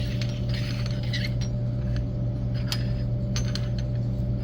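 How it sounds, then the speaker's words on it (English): Cups for a Devil's Cups magic trick being shuffled across a table, giving light, scattered clinks and taps over a steady low hum, with no talk. "They shuffle the cups as much as they want."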